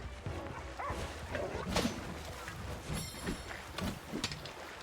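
Dog companion in the video game Monster Hunter Rise, with short yips and barks scattered across a busy mix of game effects and battle sounds, at moderate loudness throughout.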